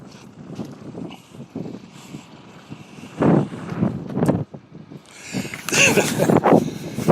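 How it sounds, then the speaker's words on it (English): Wind blows hard across a microphone outdoors beside a 2022 Subaru WRX, with loud rumbling buffeting gusts that swell and surge, strongest toward the end. "So I'm battling the wind, I'm sorry about that."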